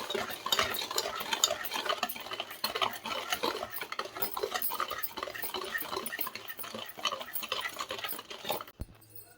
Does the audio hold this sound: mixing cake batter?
yes